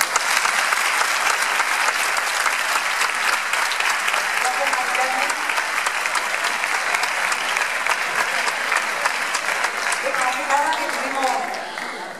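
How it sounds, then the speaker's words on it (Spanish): An audience applauds at a Cádiz chirigota gala against cancer, a dense, loud, sustained clapping that fills the whole stretch and fades slightly at the end, with a voice faintly audible beneath. "darle mucho las gracias y un fuerte aplauso otra vez"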